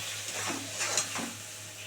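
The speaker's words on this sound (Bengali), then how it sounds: "এবার এটাকে খুব সুন্দর করে কষাবো" Ginger and green chili paste sautéed in a pan with a spoon for a pangash fish curry, a brief close hiss with soft scraping strokes over a low steady hum.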